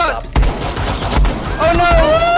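Pistol gunfire in the Rainbow Six Siege video game, with several sharp, loud shots in quick succession mixed with excited voices and game sounds.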